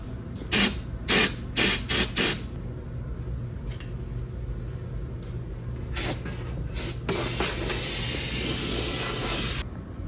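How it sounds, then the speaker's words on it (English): Short hissing bursts of Fluid Film rust protectant spray inside a truck door panel, several quick blasts in a row, a couple of scattered ones, then a longer steady spray lasting a few seconds, all close with a faint background hum. "Spray some fluid film on the inside of this door panel"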